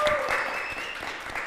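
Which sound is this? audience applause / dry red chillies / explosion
audience applause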